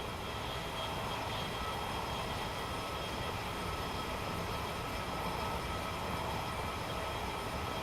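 A Thameslink train in Train Simulator Classic rumbles along in a steady, dense roar of wheels and motor noise, constant and close with no breaks or voices.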